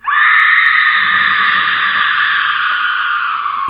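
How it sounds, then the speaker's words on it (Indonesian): A woman screams loudly in terror, one long sustained shriek held at full strength for several seconds with no pause. "Ia pun berteriak keras-keras."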